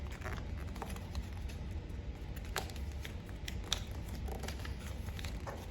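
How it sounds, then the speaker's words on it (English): Paper being folded into a paper plane, with soft crinkles and crisp creasing taps scattered close by at a quiet level, without talk. "So just fold the other side to match."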